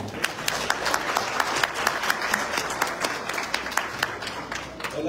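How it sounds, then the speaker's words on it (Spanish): An audience breaks into steady applause at a talk on naturopathy and iridology, with dense clapping and a few louder individual claps throughout. "Por favor, un fuerte aplauso."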